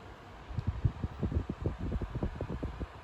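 A close Xiaomi electric fan whirring strongly at top speed, with a fluttering low rumble and steady airy hiss.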